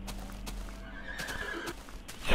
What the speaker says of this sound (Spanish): Se ha muerto el caballo.